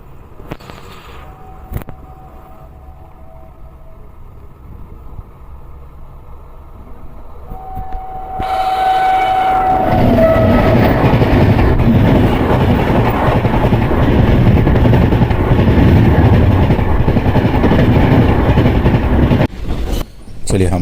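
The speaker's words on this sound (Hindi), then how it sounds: "सामने से आ रही है पद्मावत एक्सप्रेस" Padmavat Express train passing through Clutterbuckganj railway station in India, rumbling in after a quiet stretch with a horn, then a loud sustained roar of wheels and carriages that carries on for over ten seconds, close by.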